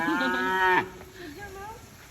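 A single cow moos loudly and close, a drawn-out low call lasting under a second, followed by quieter background murmurs.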